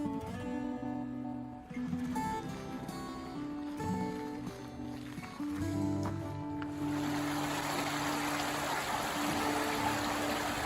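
Stream water in a state park flows steadily nearby, and its broad rushing wash swells and grows louder partway through over a low droning tone, with no voices.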